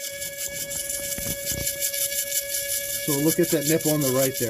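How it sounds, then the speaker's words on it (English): A steady electrical whine from the electric coolant pump runs constantly in the engine bay of a 2009 Ford Escape Hybrid while someone talks over it, fairly close and even in level. "That electrical noise you hear, that's the max pump"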